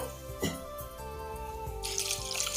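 Water runs steadily from a tap into a cooking pot of lentils and drumsticks, splashing with a continuous hiss and a brighter gush toward the end.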